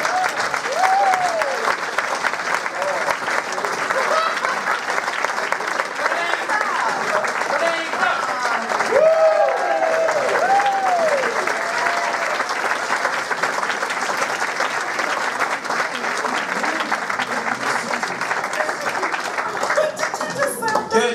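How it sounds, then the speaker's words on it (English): An audience gives a long, steady round of applause for a murder mystery cast, dense clapping from many hands with scattered voices and a few whoops mixed in. "Give them a round of applause."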